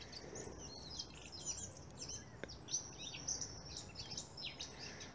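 Small songbirds chatter and chirp in a spring woodland park, a busy overlapping stream of faint high calls over a quiet outdoor background.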